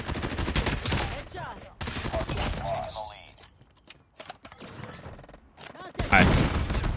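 Rapid bursts of Holger machine gun fire in a shooter video game, loud and sustained in long rattling volleys with short pauses, mixed with game effects and a final close burst.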